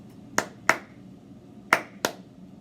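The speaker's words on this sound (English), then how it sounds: "I'm going to clap." Sharp hand claps tapping out a rhythm, two quick claps, a pause, then two more, close and clear against a quiet room.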